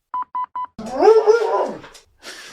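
Three quick electronic beeps, then a close, loud drawn-out howl-bark from a 90-pound dog that wavers in pitch before a brief trailing yelp.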